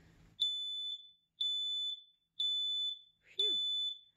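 A smoke alarm sounds four loud, piercing electronic beeps in a steady rhythm, each lasting about half a second, with brief silences between them.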